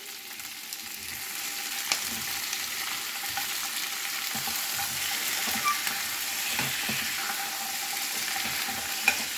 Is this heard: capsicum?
yes